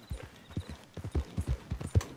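A horse's hooves clip-clop in the Red Dead Redemption 2 video game, a steady, close walking rhythm of soft thuds repeating alone for about two seconds.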